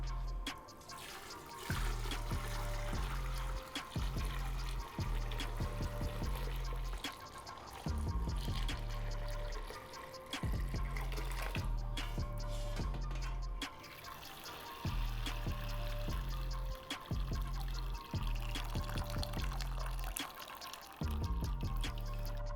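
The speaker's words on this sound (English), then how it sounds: "I'm gonna run it through a cheesecloth. I've got a couple layers of cheesecloth and a colander here going into another pot" Ramen broth runs through layered cheesecloth and a colander into another pot, a steady close splashing pour that keeps going for a long stretch with small drips, gurgles and clanks and no talk.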